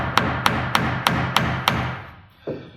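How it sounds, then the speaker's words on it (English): A hammer drives a nail into a timber wall frame during wall straightening. Six evenly spaced, ringing blows come close and loud, followed by a duller thud after a short pause. "He's gonna get a nail started."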